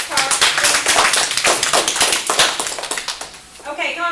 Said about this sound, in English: Give them a round of applause and then let's talk.